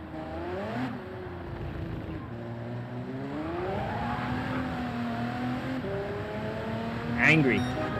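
Car engine revving in Gran Turismo 7, a steady rising and falling drone of harmonic engine tones that climbs in pitch over several seconds, with a brief sharper whine near the end.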